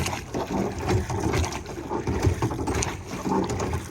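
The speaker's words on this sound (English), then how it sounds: "you can use your core to row the boat" Rhythmic splashing of oars rowing a small tender through water with wind buffeting the microphone, a short, fast repeating stroke pattern close by; no talking.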